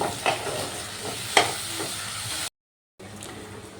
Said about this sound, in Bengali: খুব ভালো করে এটাকে নাড়াচাড়া করতে হবে